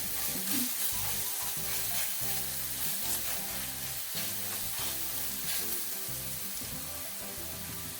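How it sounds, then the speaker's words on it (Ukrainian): Steady sizzling of onion and carrot frying in oil in a pan, a dense crackle with occasional stirring, close and continuous, no voices. "Тушкуємо овочі для начинки."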